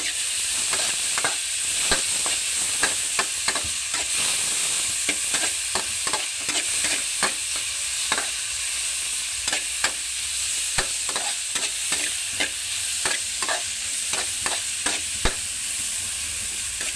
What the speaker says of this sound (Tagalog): tapos natin sinisa yung ating bawang, sibuyas,